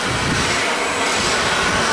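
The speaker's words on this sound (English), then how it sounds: "Oh, there goes the shop vac." Milwaukee backpack shop vacuum running, a loud, steady roaring whoosh of motor and airflow that holds constant throughout, with no voices.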